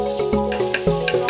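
Black pepper and chili powder hitting hot oil with frying tuna, giving a steady close sizzle with a few soft stirring clicks and scrapes throughout.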